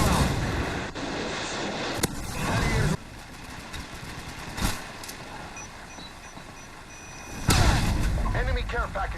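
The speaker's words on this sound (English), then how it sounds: "Friendly Predator missile inbound." Explosions and gunfire from a Predator missile strike in Call of Duty: Ghosts, with loud bursts of blasts near the start and a heavy boom near the end, under game announcer voices and continuous battle noise.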